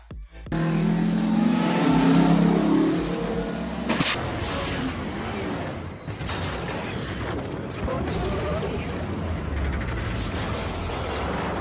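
A Ford Raptor used as a camera vehicle, its engine roaring loud and steady, then dropping briefly before rising again into a continuous rumbling drive.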